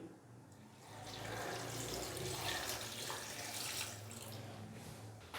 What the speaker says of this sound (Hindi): अभी 2 गिलास हम इसके अंदर डाल देंगे पानी